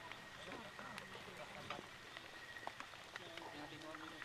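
Heavy rain patters steadily on a house on a farm, with dense drops tapping close by in a constant wash under the faint sound of people nearby.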